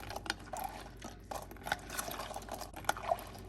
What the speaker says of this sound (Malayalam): ഇങ്ങനെ വെള്ളത്തിലിട്ട് ക്ലീൻ ചെയ്യുമ്പോൾ